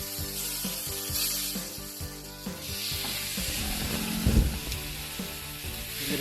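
A steak sizzling on grill grates heated to about 500 degrees, a continuous crackling sear mixed with clattering, ratcheting metallic handling noises and a low rumble, no voices.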